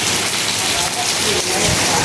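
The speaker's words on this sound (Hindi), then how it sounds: "और कैसी बारिश आ रही है" Heavy rain hisses steadily on surfaces, a close, continuous downpour with no voices.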